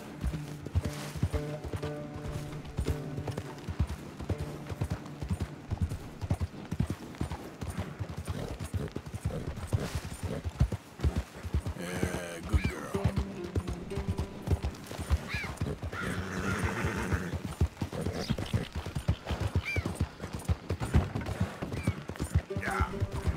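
Horse hooves clip-clopping steadily in Red Dead Redemption 2, a continuous rhythmic trot of a horse with occasional whinnies, moderately loud with faint game sounds around it.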